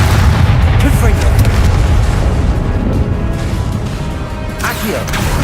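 In Hogwarts Legacy, a blasting spell detonates with heavy booming explosions and popping bursts over a dense, loud wall of battle sound, a sharp blast cracking near the end.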